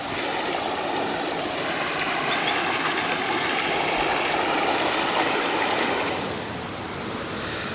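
A river ends in a small waterfall, its steady broadband rush of falling and flowing water holding even and fairly loud throughout, easing slightly near the end, with no voices.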